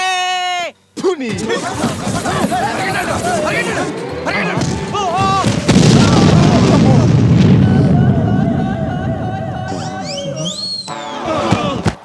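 A bomb explodes in a Telugu comedy film scene: a loud, sustained, low rumbling blast that swells over several seconds, surrounded by shouting voices and busy dramatic sound.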